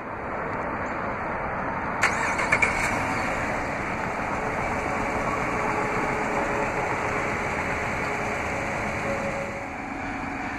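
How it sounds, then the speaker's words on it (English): The engine of a 2014 Chrysler 300C AWD idling after a remote start, a steady, even hum throughout, with a few faint clicks near the start. "To operate is easy, just double press the remote start button on the key fob."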